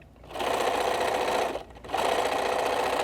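A sewing machine stitches straight channels in fabric for a microwave potato bag, running in a fast steady whir, pausing briefly, then resuming close by.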